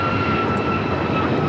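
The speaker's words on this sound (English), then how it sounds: "this is United Airlines 1571 taking off to Houston Intercontinental on the MAX 9" United Airlines Boeing 737 MAX 9 jet engines roar loud and steady during takeoff at Los Angeles airport, a brief, dense rush of sound with a thin tonal whine running through it.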